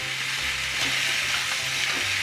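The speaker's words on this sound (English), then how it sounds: "I'm gonna add the potatoes and carrots as well" Potatoes and carrots sizzle in a hot frying pan while chicken curry is being cooked, a steady, loud, continuous hiss with faint stirring and no talk.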